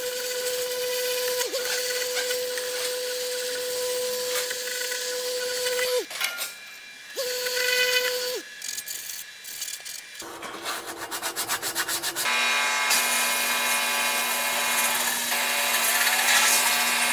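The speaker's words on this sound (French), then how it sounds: "maintenant qu'elles sont bien sèches, on va passer au ponçage" A Peugeot 206 wheel rim being sanded with coarse grit by a power sander: a steady, close whirring hum that shifts pitch several times, cuts out briefly around the middle, then runs on at a lower, rougher tone.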